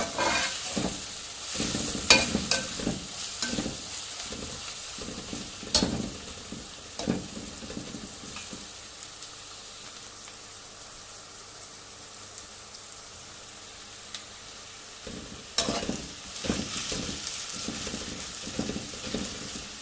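Onions fry in a pan with a soft, steady sizzle while a spoon repeatedly scrapes and stirs them in irregular close clinks and knocks, no voices.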